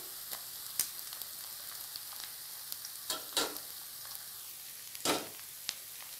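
Onions and green chillies frying in a pan for an egg and lady's finger curry, a soft steady sizzle with a few sharp scraping stirs standing out, close and fairly quiet, no talking.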